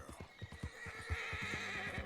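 A horse in Red Dead Redemption 2 gives a clear whinny over a quick run of hoof clip-clops, close by and fairly quiet, with no talking.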